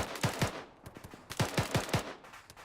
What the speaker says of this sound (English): I just hear shots going over us